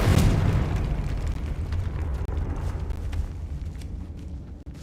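A Confringo explosion spell in the video game Hogwarts Legacy bursts with a loud boom at the start, then trails into a rumbling, crackling decay that fades over several seconds.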